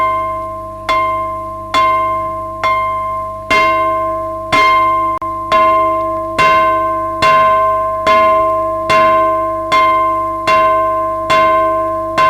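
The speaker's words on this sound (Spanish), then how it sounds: "La campana de la humilde capilla saludó a la mañana con su canción" A humble chapel bell rings in the morning in a jungle village, struck about fourteen times at a steady slow rhythm, each clear metallic toll ringing out and decaying before the next.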